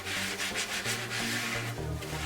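Toilet brush scrubbing black mold inside a toilet bowl, a loud close rhythmic rubbing and swishing in quick repeated strokes, with no talk.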